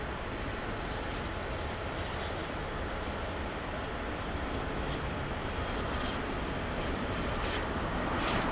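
A Southwest Airlines jet moves at LAX airport, its engines producing a steady, broad roar that holds at a fairly even level throughout and sounds at a moderate distance.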